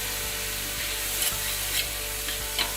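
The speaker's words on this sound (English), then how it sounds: "So now we're going to add all of the chopped leaves, the mint and the cilantro." Chopped mint and cilantro leaves sizzling as they go into a pan of half-cooked tomatoes for mutton biryani, with a steady loud frying hiss and a few soft stirring knocks.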